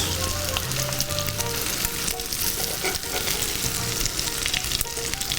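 Pieces of food fry loudly in a pan, a dense continuous sizzle and crackle close up, with faint scrapes and knocks as tongs turn them over, and no talking.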